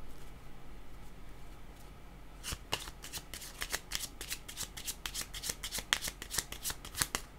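Tarot cards shuffled and drawn by hand, a quiet hiss at first, then a run of crisp, rapid riffling snaps and flicks from about two and a half seconds on, close and fairly soft, with no talking.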